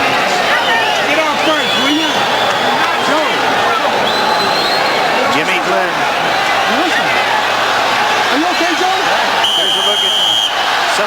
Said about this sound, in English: And this crowd. Yeah, responds to that when they see that shot up on the scoreboard.